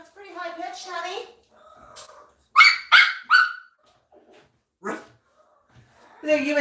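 A dog gives a few sharp, close barks and yips, bunched into a quick burst with isolated barks after, between short quiet gaps, alongside some higher squeaky vocal sounds.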